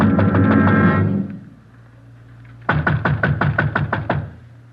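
Police officers pound on a front door with two loud bursts of rapid knocking, a fast flurry, a pause, then about eight more heavy blows close by, in a tense raid on a suspect's home.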